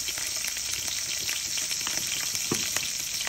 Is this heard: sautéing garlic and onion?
yes